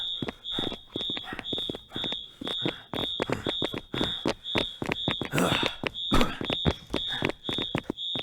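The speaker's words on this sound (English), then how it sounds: "What about the fire alarm?" A fire alarm beeps in a steady, rapid repeating pattern throughout, fairly faint, over hurried footsteps and clattering movement.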